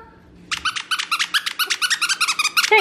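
A puppy with a new plush skunk toy gives a rapid run of high squeaky yips and whimpers, loud and close, rising in quick succession after a brief quiet start.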